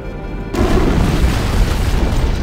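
Antimatter charge explosion aboard a starship in Halo: Combat Evolved, a sudden loud deep boom that swells into a sustained roaring rumble after a brief quiet moment.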